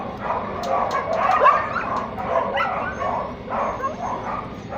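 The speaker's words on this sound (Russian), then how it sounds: "там щенки так скулят" Puppies at an animal shelter whine and yip continuously in a noisy chorus, close and steady, with many overlapping high cries throughout.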